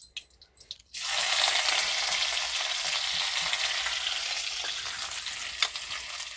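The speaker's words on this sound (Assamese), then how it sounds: "মই পেষ্টখিনি অকণমান ৰঙচুৱা হোৱালৈকে ভাজিম।" Ginger garlic paste hits a hot pan and sizzles steadily, a loud continuous frying hiss that starts abruptly after a quiet second and carries on with faint stirring clicks, no voices over it.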